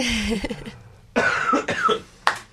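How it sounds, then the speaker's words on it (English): A person with a cold coughs in several harsh bursts, close up, with a short pause mid-fit and a final sharp cough at the end. "I had like a little coughing fit."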